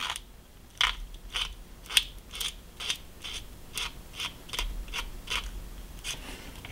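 Sandpaper roughing the smooth cut edge of a small wooden bench before gluing, a series of short, crisp rasping strokes in an even rhythm, close and fairly quiet.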